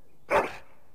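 A single short dog bark from a noble's hound in the video game Dragon Age: Origins, close and clear, standing alone against a quiet background.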